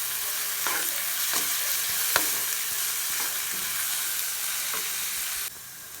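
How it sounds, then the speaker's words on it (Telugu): Onions fry in hot oil with masala spices as an egg puff filling is cooked. A constant sizzle runs throughout, broken by repeated scraping strokes of a stirring spoon, with no talking. "ఆనియన్స్ ఇలా కలర్ చేంజ్ అవుతున్నప్పుడు మనం వీటిలోకి నేను చెప్పిన మసాలా ఇవన్నీ యాడ్ చేసుకున్నాము"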